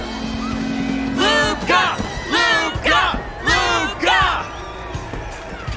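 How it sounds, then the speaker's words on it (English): Crowd cheering around a fight cage in Honkai Star Rail, loud rising bursts of many voices whooping and bellowing in several waves over a steady din. "the crowd never gets tired, do they?"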